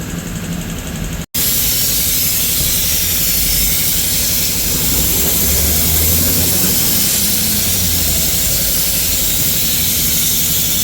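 A pressure washer sprays foam over the engine bay of an Opel Insignia 1.6 with 136 hp, a loud, harsh, constant hiss and roar that starts abruptly after a short gap and runs on unbroken at close range.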